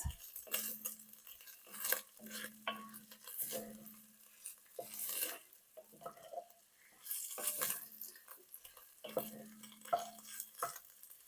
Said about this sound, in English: I'm just stirring this every so often so that nothing burns.